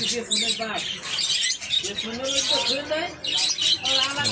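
Doves calling in an aviary of Australian doves, with repeated soft cooing and chirping mixed among other bird sounds, fairly close and steady across the stretch.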